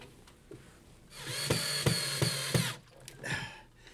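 A power drill drives a screw through a small bracket on top of a cabinet into a wall stud, one steady whirring run of about a second and a half with a few clicks and bumps before and after.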